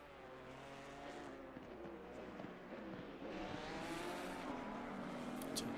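GT3 race cars, including a Mercedes AMG GT3 and an Alpine, lapping Monza in the Assetto Corsa Competizione sim during practice, engines droning and shifting pitch as they pass, faint and continuous, swelling slightly toward the end.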